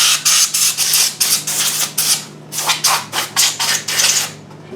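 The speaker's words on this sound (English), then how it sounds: "I'm just going to blow out this power supply." Compressed air bursts blasting dust out of a Sony PS3 Slim power supply, a rapid series of loud, hissing spurts with short gaps, close up, over a steady low hum.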